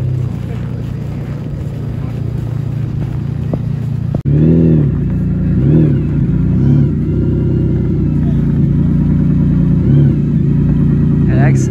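An expensive supercar revs hard on snow in St. Moritz, rear wheels spinning, its engine roaring loud and rising in surges over a steady drone, with someone talking over it and a crowd nearby.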